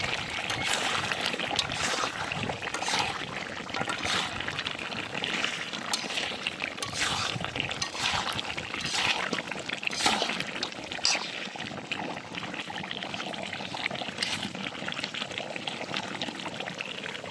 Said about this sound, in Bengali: এবার হচ্ছে আমরা গরম পানি দিব